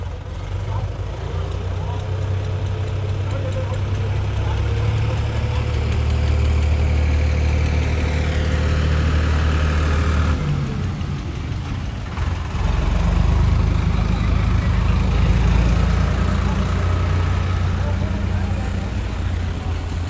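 Tractors idle together on a rural work site in Chhattisgarh, a steady low diesel rumble with a brief dip near the middle before the engines swell again, running continuously throughout without any voices.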